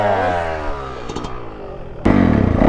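A 2021 Yamaha YZ450 Monster Edition dirt bike idles close by with a rough, steady engine note, then the throttle is blipped and the motor jumps sharply louder into a hard rev that carries on to the end.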